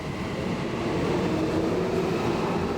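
A Tokyo metro subway train running toward Kasumigaseki, heard as a continuous loud rumbling drone with a faint tonal whine, steady throughout with no distinct clacks.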